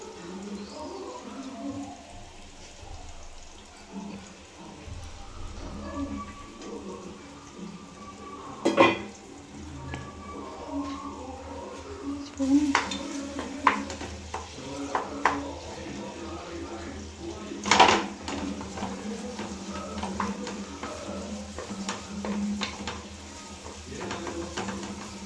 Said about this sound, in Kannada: ಈರುಳ್ಳಿ ಫುಲ್ ಫ್ರೈ ಆಗೋವರೆಗೂ ಗ್ಯಾಸು ಲೋ ಫ್ಲೇಮಲ್ಲೇ ಇಟ್ಕೋಬೇಕು.